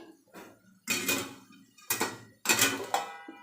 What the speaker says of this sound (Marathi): झाकण ठेवत आहे आणि दोन मिनिट थांबणार आहे